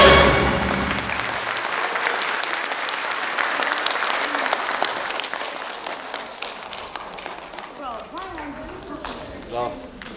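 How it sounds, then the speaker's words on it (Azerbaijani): Loud, full applause from an awards ceremony crowd for the dancers, starting strong and gradually thinning, with a voice speaking over the fading clapping toward the end. "Dostlar, bir daha alqışlayaq rəqqaslarımızı"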